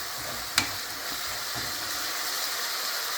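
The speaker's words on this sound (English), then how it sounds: "let's give this a good stir" Beef pie filling sizzling in a pot as it is stirred, a steady hissing fry with a sharp clink of the spoon early on.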